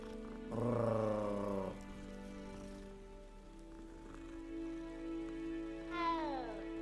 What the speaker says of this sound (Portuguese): Olha um gato, Zé.